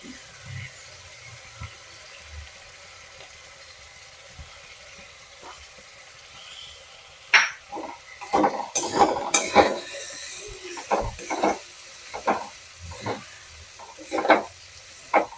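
Soaked cumin powder going into spices frying in a pan for Bengali mutton kosha, with a quiet sizzle at first, then bursts of stirring, utensil scrapes and clinks against the pot in the second half.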